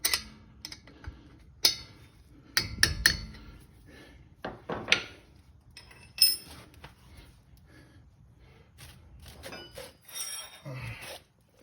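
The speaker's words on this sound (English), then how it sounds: "Just take a hammer here," A hammer gives a few sharp metallic taps on a 14 mm box wrench fitted to a brake caliper bolt on a 2007 Honda Odyssey, scattered clinks and knocks spread over several seconds in a quiet garage.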